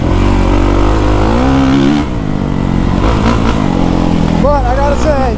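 A 2023 Kawasaki KX450SR dirt bike engine lugs and revs under a rider, a loud, close drone rising and falling with throttle and gear changes, while someone talks over it.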